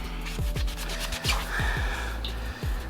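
A sneaker midsole being scrubbed with a shoe eraser cleaner, giving close, rough rubbing strokes that repeat irregularly and are heard on their own with no talking.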